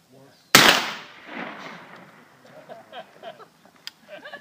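A black powder gun fires a single sharp, loud report at an outdoor shooting event, followed by a long decaying rumble and echo, then faint voices and small knocks in the background.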